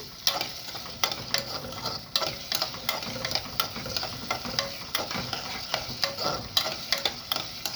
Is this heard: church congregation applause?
no